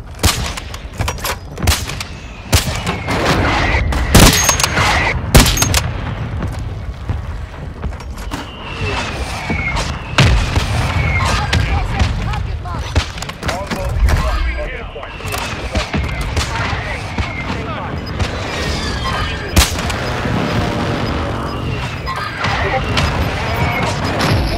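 Mortar fire and other explosive gunfire in a squad-based battle royale video game, with dense repeated booms and crackling shots throughout, loud and continuous, with players talking over the combat.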